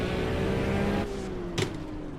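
A V6 turbo engine drones steadily in the Assetto Corsa racing game, holding a fairly even pitch before easing off, with a brief bump in loudness near the end and no talk over it.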